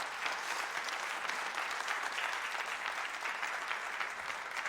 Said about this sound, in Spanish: Dele un fuerte aplauso a la gloria del Señor.